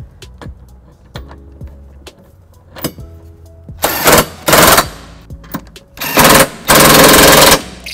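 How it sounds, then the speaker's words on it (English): A cordless socket wrench with a 19 mm socket tightens trailer hitch bolts on a 2015 Toyota Highlander, firing in loud, harsh whirring bursts after a few light clicks and taps. "Now that I've gotten the bolts tightened down with the cordless socket"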